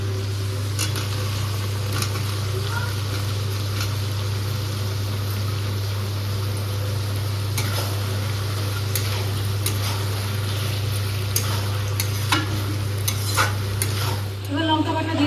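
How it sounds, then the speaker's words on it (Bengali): Fried potatoes being stirred into a thin village-style chicken curry, a steady simmering sizzle with repeated scraping and clinking of the spoon against the pot under a constant low hum, with no talking. "এবার আলু ভাজাগুলো দিয়ে দেবো।"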